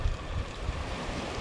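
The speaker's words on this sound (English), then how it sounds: "Don't you just love hearing the waves in the background?" Surf washing onto the coast during land-based squid fishing makes a continuous rushing sound, mixed with gusty wind buffeting the microphone, with no voices.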